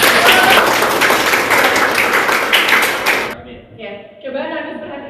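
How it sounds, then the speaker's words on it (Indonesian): Applause in a classroom: dense, loud clapping from a group of students that breaks off sharply, leaving a quieter room where a voice speaks. "Tepuk tangan juga."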